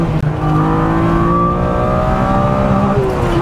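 A tuned BMW E36 M3 Evo with Alpha N tuning and a full exhaust revs hard toward 8,000 RPM, a loud, close engine howl with harmonics climbing steadily and holding high, no talking over it.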